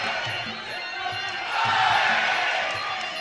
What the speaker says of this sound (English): Cheers from the crowd with every technique thrown from both fighters.